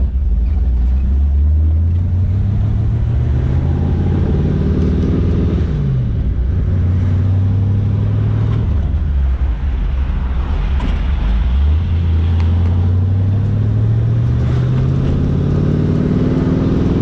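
A 1932 Ford on a test drive, loud in-car engine drone with rising tones as it runs through the gears, several shifts and a steady road rumble throughout, with no talk.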